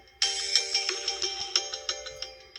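A phone ringtone sounds alone, beginning abruptly after a short silence and repeating a bright electronic pattern in quick regular pulses, moderately loud and close.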